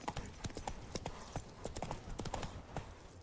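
Horse hooves clip-clop at a steady walking rhythm in the video game The Witcher 3, close and fairly quiet, with no talk over them.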